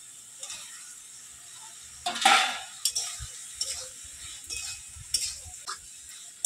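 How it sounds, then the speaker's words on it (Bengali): Fried potatoes and stalks are stirred into a spice masala in a pan, with intermittent scraping and clinks of a spoon against the pan over a faint sizzle, close and quiet, with no talk. "কিছুক্ষণ এইভাবে নাড়াচাড়া করে নেব, মশলার সঙ্গে ভালোভাবে কষিয়ে নেব।"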